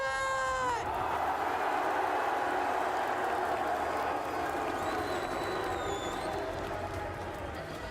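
A packed arena crowd at the Valorant championship final of EWC 2026 roars steadily and loudly throughout, a dense wall of cheering with a voice rising over it at the start.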